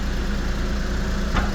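A 1998 Mitsubishi MiniCab 4x4 dump truck engine idles with a steady low rumble close by, with a brief knock near the end and no voices.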